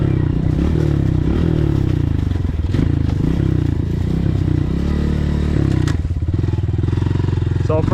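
A 2022 Honda CRF125FB dirt bike is ridden close up, its small single-cylinder engine buzzing loudly and steadily with revving shifts, plus some clatter and thumps from the trail.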